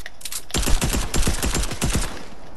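Rapid bursts of gunfire from a gun in the video game Fortnite fire in a dense, loud volley that stays sustained for about two seconds, with no talking.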